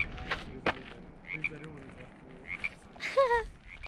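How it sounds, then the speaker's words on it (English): Frogs croak in short bursts, some close and some farther off, against a quiet night background in Yosemite National Park. "Did you hear that? It's frogs."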